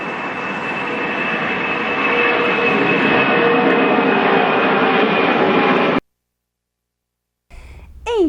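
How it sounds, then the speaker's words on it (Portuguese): Airplane engine roar fills most of the clip as a steady loud drone with a whining tone, cutting off abruptly into silence before a brief different sound at the end. "Vamos andar de avião?"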